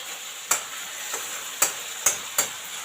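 Cabbage fries in plenty of oil with spices, a faint background sizzle broken by four sharp metallic clinks of a spoon against the pan at irregular intervals, close up and without talk.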